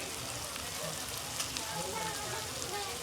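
Kantola (spiny gourd) vegetable sizzling in a pan just after cumin is added, a steady, even crackling fry throughout, close and moderately loud.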